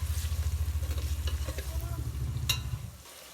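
Onions sizzling in hot oil on a wood-burning stove, with a close, rhythmic low pulsing as the pan is stirred, then a bright scrape near the end before it fades out.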